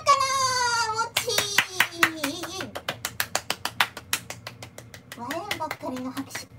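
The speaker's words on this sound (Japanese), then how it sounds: "笑うばっかりの拍手、ありがとうございます" Quick, regular hand claps, roughly twenty in a steady run, during a Vietnamese pho cooking stream, bracketed by a high, animated voice before and after.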